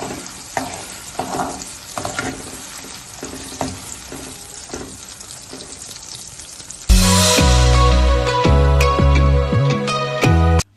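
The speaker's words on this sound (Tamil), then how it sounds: "இந்த கருணாக்கிழங்கு கொஞ்சம் கொஞ்சமா போட்டு வறுத்து எடுத்துப்போமா?" Elephant foot yam pieces fry in hot oil in a kadai with a steady close sizzle and stirring clatter, and partway through a louder burst of music comes in over the frying.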